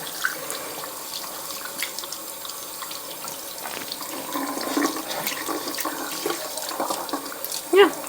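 Makeup brushes washed under a running tap, water splashing and trickling unevenly with squelching and dripping as the bristles are squeezed out, close and moderately loud.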